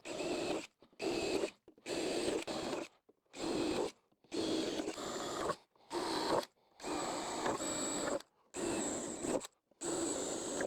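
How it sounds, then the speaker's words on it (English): Power drill boring drainage holes through a cedar wood planter, several loud bursts of whirring with short pauses between them, close and alone. "Last step, we're going to put some drainage holes in it."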